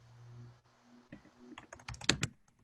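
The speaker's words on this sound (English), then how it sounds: "the typing you hear is me responding to some of your questions" Fingers tapping on a computer keyboard, a quiet low hum at first, then a cluster of quick, uneven key clicks building to a few sharper, louder strikes near the end, close by and alone.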